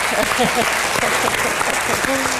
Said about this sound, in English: we should give a round of applause to this global network